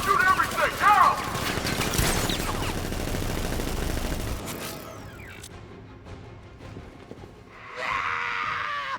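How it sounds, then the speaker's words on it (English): Gunfire from guards in Batman: Arkham Knight, dense bursts of shots and crashes in the first few seconds amid game noise, then fading into quieter ambience with a brief hiss near the end. "Guards! Open fire! Shoot everything!"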